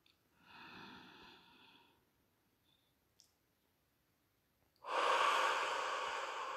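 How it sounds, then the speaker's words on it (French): Breathing exercise with a long exhale from about half a second to two seconds, a short click near three seconds, then a loud, deep inhalation from about five seconds to the end. "Une fois qu'on a soufflé, on inspire à plein poumon."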